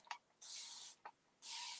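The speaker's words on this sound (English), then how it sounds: "and I'm going to spray" Two short bursts of hissing spray, each preceded by a faint click, separated by a brief pause.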